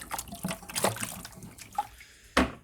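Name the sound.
sugar water being poured or stirred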